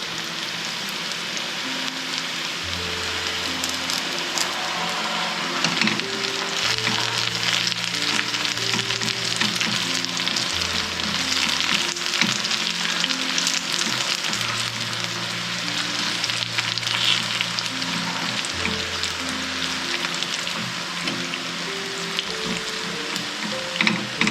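Steady crackling sizzle of curry leaves frying in hot oil, continuous and fairly loud, with low mechanical humming tones running underneath.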